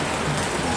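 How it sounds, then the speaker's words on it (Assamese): Rain falls outdoors as a dense, even hiss of drops with no other sound standing out. "এতিয়া আৰু বৰষুণো আহিছে"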